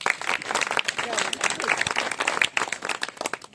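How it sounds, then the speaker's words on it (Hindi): A group of children clap together after a lesson on Savitribai Phule, with quick, uneven claps over lively chatter, fairly close and moderately loud. "तो फिर ताली बजा दो"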